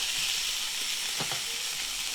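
Pork chops fry in a pan with a steady, close sizzle throughout, broken by a few faint clicks and scrapes as the meat is turned.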